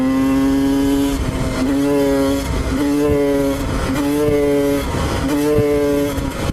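Motorcycle engine held at high revs in sixth gear during an attempted wheelie, a loud continuous drone with steady harmonics that dips and surges again a few times, close and alone with no talk.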